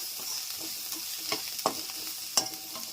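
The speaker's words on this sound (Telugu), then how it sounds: "అందులో పసుపు వేసుకొని వేపుకుందాము." Chopped onion and garlic fry in a pan with turmeric, a faint steady sizzle broken by a few sharp scrapes and clicks of a spoon stirring.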